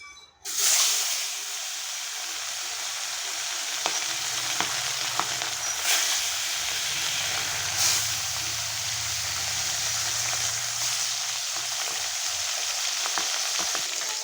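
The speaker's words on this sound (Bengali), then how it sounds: "এখন মাছগুলো আমি ভেজে নেব।" Pieces of rohu fish rubbed with salt and turmeric fry in hot oil in a wok, a loud, steady close sizzle with occasional sharp pops and crackles throughout.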